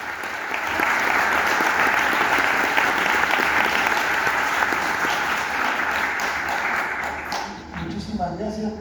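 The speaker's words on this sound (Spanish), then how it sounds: "Muchísimas gracias por ese aplauso" A seated audience at a book presentation in Lima gives the author sustained applause, a dense, even wash of many hands clapping that swells, holds for several seconds, then thins out as a voice begins at the end.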